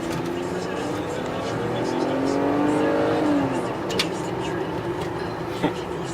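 A BMW inline-six car accelerates and revs, its engine tone rising steadily beneath a continuous road and cabin rumble; the engine note stays fairly loud and close, and a few light clicks and knocks break through near the end.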